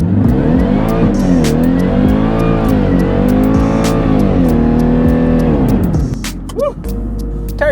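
A 700HP Jaguar super sedan pulls away with tires smoking, its engine roaring loud and close with rising and falling revs and tire squeal, then a brief quieter moment near the end.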